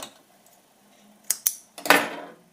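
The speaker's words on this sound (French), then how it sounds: "Je coupe mes fils." Scissors snip sewing threads while a rounded-edge pocket is being sewn: several quick, close metallic clicks and snips in a short cluster after a near-silent start, the last a longer rasping cut, with no talking.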